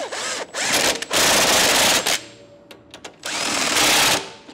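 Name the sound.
power tool tightening hitch nuts on 2019 BMW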